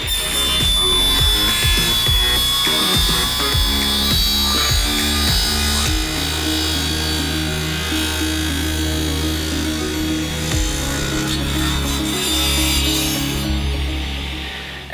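A saw on a miter sled trims excess from a wood miter joint, a loud close whirring cut with grinding, pitch-shifting tones as the blade passes through the wood, winding down near the end.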